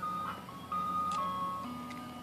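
Tinkling chimes of an ice cream truck's music drift across a bluegill pond setting, a clear repeating melody heard at moderate distance over a soft low hum.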